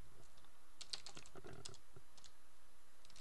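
Typing on a computer keyboard: a run of light, quick key clicks in irregular bursts, close and moderately quiet, with no talking.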